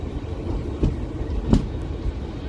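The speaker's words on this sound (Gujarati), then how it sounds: "સિંગલ સ્ટેક કન્ટેનરવાળી એક ટ્રેન આવી રહી છે platform number 1 Dhrangadhra junction railway station ઉપર" A single-stack container freight train hauled by a WDG4G diesel locomotive rolls into platform 1 at Dhrangadhra Junction, a low steady rumble with a couple of dull wheel thumps and clanks, heard from the platform.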